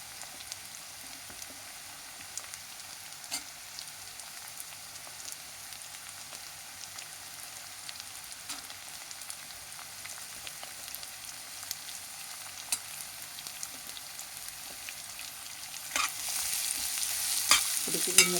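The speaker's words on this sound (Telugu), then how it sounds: "ఇప్పుడు ఈ ముక్కలు కాస్త మెత్తబడే వరకు వేయించుకోవాలండి బాగా" Carrot and other vegetable pieces frying in a pan, a continuous soft crackling sizzle with occasional stirring scrapes, growing louder and harsher toward the end.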